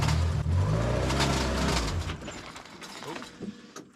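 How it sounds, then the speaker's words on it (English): Loud mechanical rattling and grinding from a car's worn clutch as it pulls away, with a heavy low engine drone that fades, leaving scattered clatters. "you'll be able to hear the racket that the clutch is making"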